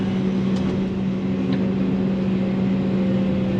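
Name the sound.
sheepsfoot roller compactor engine running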